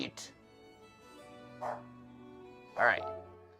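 A dog barks and yips a few times, loud and close, in short separate bursts over a steady background hum.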